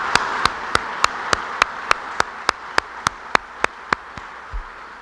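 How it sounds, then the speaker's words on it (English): Steady, evenly spaced claps at a civic project announcement, about fifteen sharp hand claps at a regular pace, fairly close and clear over a quiet background, ending with a soft thump. "Let's give them a big round of applause."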